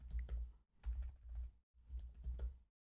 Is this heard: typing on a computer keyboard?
yes